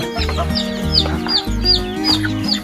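Young chickens cluck and peep close by, with repeated calls over a layer of steady low tonal sound that runs throughout.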